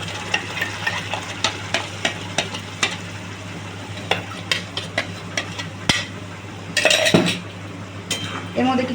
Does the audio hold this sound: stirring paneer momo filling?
yes